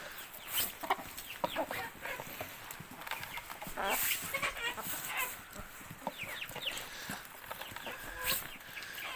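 A flock of chickens clucks busily and continuously nearby, with thin high chick peeps mixed in and scattered rustling.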